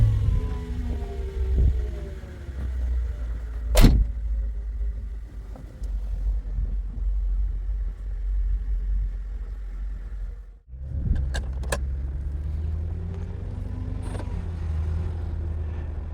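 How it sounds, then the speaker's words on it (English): A Mercedes CLK500 idles with a steady low rumble close by, a brief sharp transient near four seconds, then the engine note drops out and picks up again around eleven seconds as it restarts for a test drive. "Let's start the car and go for a test drive."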